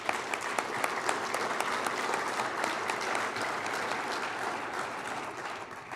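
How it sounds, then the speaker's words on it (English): Steady applause from an audience at the 2013 Iowa Renewable Fuels Summit, a dense, even wash of many hands clapping that holds for the full stretch with a slight fade near the end. "Give him another round of applause."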